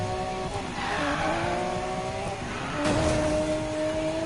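A car in the Need for Speed video game accelerates with a high, whining engine tone likened to a jet or spaceship, rising in pitch through gear changes with a tire-squeal edge, loud and close, with no talking.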